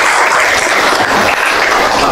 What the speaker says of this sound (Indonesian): Tepuk tangan dulu dong ya kawan-kawannya.